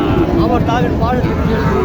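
Cattle at a Joypurhat cattle market low in a loud, drawn-out moo that fills the whole moment, close by, against busy market noise.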